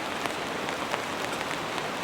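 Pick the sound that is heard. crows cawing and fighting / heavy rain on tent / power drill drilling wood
heavy rain on tent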